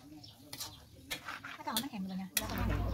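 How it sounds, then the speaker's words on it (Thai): A spatula clatters and scrapes against a pan in irregular strokes while minced pork sizzles softly, with faint voices and birdsong nearby. "ตั้งกระทะแล้วก็ใส่หมูบดลงไปเลยค่ะก็คั่วไปเรื่อยๆนะคะ"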